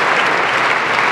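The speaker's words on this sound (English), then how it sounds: "I want to do another round of applause for Jeff Wall and Thomas DeMand." Audience applause at an onstage conversation event in Melbourne, a steady dense clapping from a large crowd that holds loud and even for the whole moment with no voices over it.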